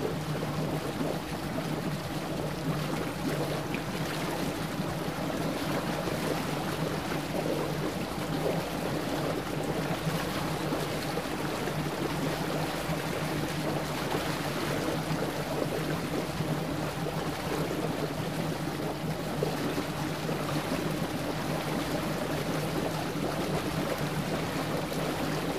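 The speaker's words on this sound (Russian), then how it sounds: "Контейнеровоз." A container ship gives a continuous low rumbling hum mixed with the steady wash of water, unchanging for a long stretch.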